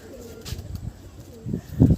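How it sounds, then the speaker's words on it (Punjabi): Pigeons coo in low, soft throaty bursts, a few brief calls early and louder rolling coos near the end, close by. "ਆ ਕਬੂਤਰ ਆ ਗਿਆ ਜੀ"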